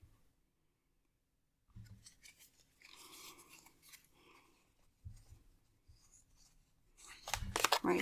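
Tarot cards are shuffled by hand in quiet, close, soft bursts of riffling and sliding, separated by short silences and growing louder near the end.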